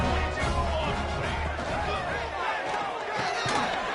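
Football stadium crowd roaring and cheering after a touchdown drive and two-point try, a dense, loud, sustained wash of many voices with a low rumble fading midway.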